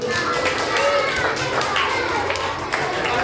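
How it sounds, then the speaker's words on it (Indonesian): A class of children clapping hands together, brisk steady clapping throughout with young voices chattering over it, close and loud. "Tepuk tangan untuk kita semua."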